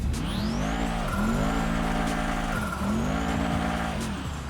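Synthetic Mercedes-Benz G63 engine in GTA 5 revving up and down in repeated bursts, loud and close with a smooth, game-like tone and a brief squeal.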